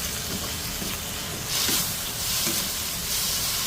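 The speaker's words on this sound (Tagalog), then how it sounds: "So, yan, nagisa lang natin konti." Beef sautéing with fish sauce in a pot gives a continuous close hiss and sizzle, swelling a little partway through, with no talking over it.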